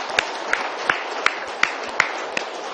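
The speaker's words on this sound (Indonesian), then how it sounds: "tepuk tangan dong Bunda" A studio audience claps in rhythm, with sharp regular claps about three per second over a soft background murmur.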